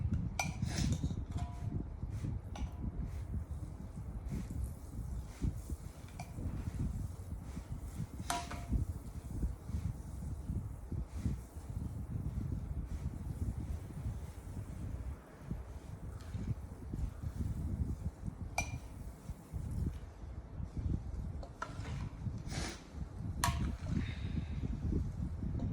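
Salt being stirred into raw mango pickle in a pot, with a steady scraping and rustling of the spoon against the metal and occasional sharp clinks, continuous and close over a long stretch.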